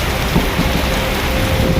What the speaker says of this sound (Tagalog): napakalakas ang ulan dito